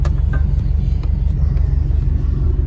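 A car on a test drive after its bumper was refitted, heard as a constant low engine and road rumble from inside the vehicle, steady and fairly loud.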